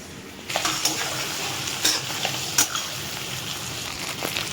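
Hilsa fish pieces fry in hot oil with a steady close sizzle, broken by a few sharp clinks and scrapes as the pieces are turned and lifted out.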